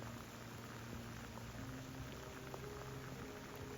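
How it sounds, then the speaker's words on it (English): Steady rain falls on Adak Island in the Aleutians on a foggy North Pacific day, a continuous soft patter and hiss with no voices. "Rainy day in Adak Island."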